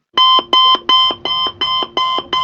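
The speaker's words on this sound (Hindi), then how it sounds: "ओके, तो अब हमारा अलार्म जो है वो प्ले भी हो रहा है हमारे टाइम पे।" A browser-based clock alarm from a beginner web project plays a loud, steady electronic alarm tone, pulsing in a fast even rhythm of about seven repeated beeps, with no one talking over it.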